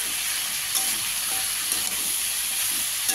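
Spices with turmeric and salt frying in a pan for a fish curry with potato, giving a dense, constant close sizzle and hiss, with light stirring scrapes throughout and no voices.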